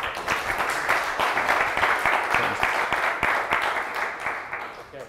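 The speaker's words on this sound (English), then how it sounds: "And I think we should give David another round of applause" An audience at a lecture applauds steadily, dense clapping that holds for several seconds and slowly tapers off toward the end.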